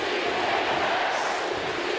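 Hockey arena crowd roaring during overtime of a Boston Bruins versus Columbus Blue Jackets game, a loud, steady wall of cheering that holds without a break.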